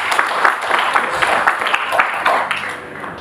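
Christmas sermon congregation in a church clapping loudly, a dense patter of many hands rising in waves and tapering off toward the end, with some voices mixed in.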